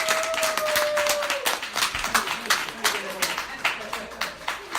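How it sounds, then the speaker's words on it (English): A live training audience in Raleigh, North Carolina gives a round of applause for panel members: loud, dense clapping at first that thins into scattered claps as it fades, with a voice briefly over it. "Let's give them another round of applause."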